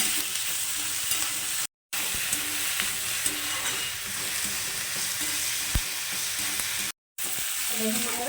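Onion, garlic and chilli fry in a pan with a loud, continuous sizzle and occasional stirring scrapes, cut by two brief silent gaps.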